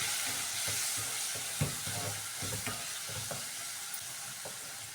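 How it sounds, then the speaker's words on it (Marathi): Capsicum sautéing in a pan with coriander powder, garam masala and homemade masala makes a soft, steady sizzle, with faint stirring scrapes and occasional taps of the spoon. "व्यवस्थित परतून घेऊ सर्व."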